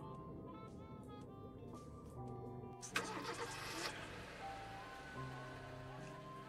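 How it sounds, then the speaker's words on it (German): A car engine starts in the video game Lucius, a brief cranking burst that settles into a quiet running hum beneath steady game music. "Michael, ich kann den Wagen mit meiner Willenskraft starten"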